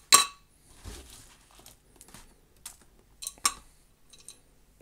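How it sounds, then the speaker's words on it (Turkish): A spoon scrapes and clinks as charcoal and gravel are scooped into an isopod terrarium, giving a few sharp, close clicks and rattles separated by quiet pauses. "Yine kömüründen, çakılından olabildiğince her şeyden koymaya çalışıyorum içine"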